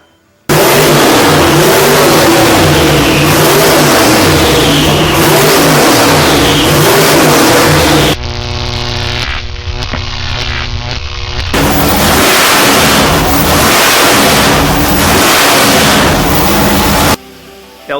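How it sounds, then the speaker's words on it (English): A 1957 Chevy with a 515 cubic inch twin-turbo big-block engine revs loudly and up close in repeated throttle blips. A short, quieter, tonal stretch comes midway before the roaring revs resume. "This is the 57 Chevy 515 cubic inch twin turbo big block."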